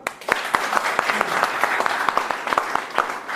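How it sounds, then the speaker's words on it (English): An audience at an English-speaking classroom debate on formal versus informal education claps for a debater, a brisk, moderately loud spatter of hands from a small group with a few sharper individual claps. "So please, first of all, formal education, clap for Mr. Sundaram"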